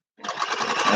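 A new home sewing machine stitches fabric for small craft bags, a steady close whirring hum that starts after a brief silence and builds slightly in loudness through the short burst.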